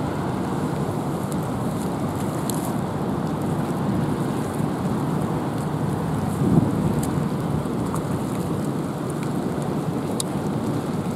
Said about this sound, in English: Really, really cold, windy day.